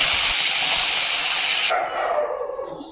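Curry leaves hit hot oil while tempering dal, giving a loud, bright, steady sizzle that sputters and drops off abruptly partway through, leaving a softer crackle.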